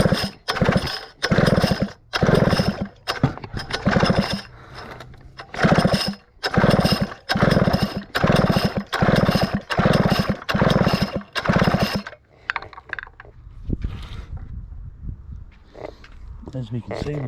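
A Stihl 051 chainsaw engine runs in a close, loud, pulsing roar with rhythmic surges for about twelve seconds, then drops to a rough, quieter idle with knocks and rattles.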